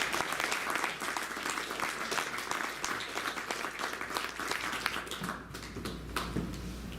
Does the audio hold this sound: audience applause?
yes